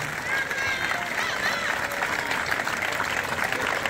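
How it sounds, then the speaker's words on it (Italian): Steady applause from a theatre audience at an Italian variety show, dense clapping filling the whole stretch at an even level with a faint murmur of voices beneath. "un applauso anche a lui"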